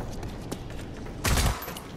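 Ranger assault rifle fire in Rage 2, with scattered gunshots and a brief, loud burst of several rounds in quick succession standing out near the end.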